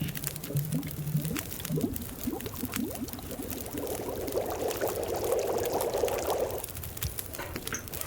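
In a survival video game, water is poured for boiling to make coffee, with several short gurgling splashes followed by a sustained steady pour that stops abruptly near the end, fairly close and moderately loud.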